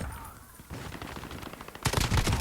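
FN FAL semi-automatic rifle fire in Call of Duty: Modern Warfare (2019), a quick string of sharp shots ending in a louder, denser burst near the end.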